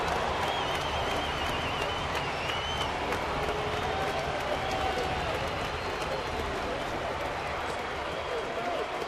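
A baseball stadium crowd of about 23,000 cheers and applauds steadily, a dense, continuous roar with clapping, heard from within the stands.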